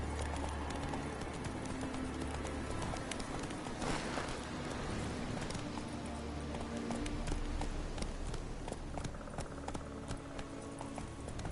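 Roach, the horse in The Witcher 3, gallops in steady, rhythmic hoofbeats throughout. The sound is close and continuous over a dense bed of game ambience.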